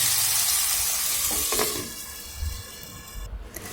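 Salted tomatoes sautéing in a covered pan for mushroom gravy, a loud dense sizzle and hiss close up, with a spoon scraping and stirring midway before the frying continues more unevenly.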